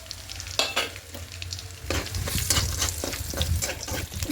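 Torn dried red chillies frying with nigella seeds in hot oil for a tempering, loud close sizzling with repeated stirring scrapes and clatters, swelling louder partway through, no voices.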